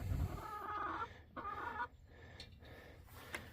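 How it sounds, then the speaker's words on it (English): Chickens cluck inside a parked car, loud and close at first, then settling into softer, broken clucks and rustling, with no talking. "Yes, chicken passengers, hop out of there."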